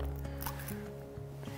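Thick paint poured from a can into a roller tray, giving a soft, wet squishing glug over a steady low background hum, close and fairly quiet.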